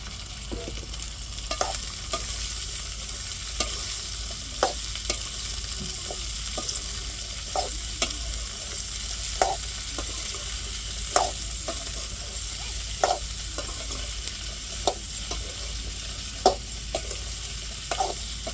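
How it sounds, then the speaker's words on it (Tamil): Okra tossed and stir-fried in a pan, with a steady low sizzle and a recurring knock of a spoon or spatula on the pan every second or two, close and fairly quiet, no voices. "இப்போ வெண்டைக்காவை சேர்த்துக்கிடுவோம்."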